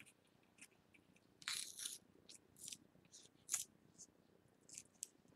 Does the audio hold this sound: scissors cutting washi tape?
yes